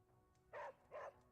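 A hellhound dog in the video game Midnight Suns gives two short, soft barks in quick succession against a quiet background.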